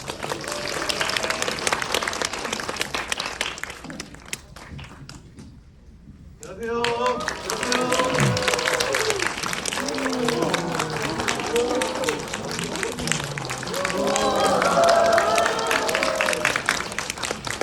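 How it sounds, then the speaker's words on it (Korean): A cinema audience applauds a film's director and actors at a stage greeting. Dense clapping runs throughout, broken by a brief lull, while an amplified voice speaks over the crowd for much of it. "큰 박수 부탁드립니다"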